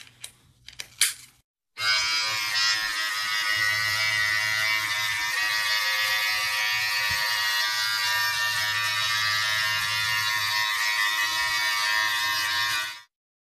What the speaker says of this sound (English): So we just trimmed with a number 12 millimeter, which would be closest equivalent to a number 4 on actual hair clippers